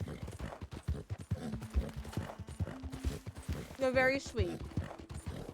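Horse hooves clip-clop steadily in a cowboy video game, with a brief whinny partway through. Players talk and banter over the hoofbeats throughout.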